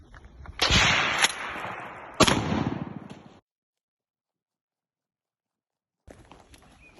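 A shotgun fires at tactical shooting glasses from 10 metres, giving two loud sharp blasts with ringing decay, then silence and faint handling noise.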